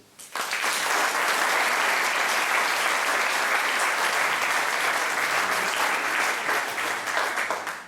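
An audience bursts into sustained applause for volunteers at an anniversary event, starting abruptly and holding strong and even throughout.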